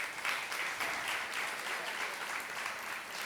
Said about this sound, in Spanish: Vamos a recibirla con un aplauso.